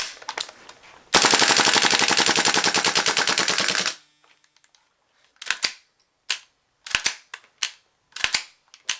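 A KJ Works Tanio Koba M4 gas blowback airsoft rifle fires a loud, rapid full-auto burst of about three seconds, then after a short pause several sharp short bursts and single shots, close, no talking.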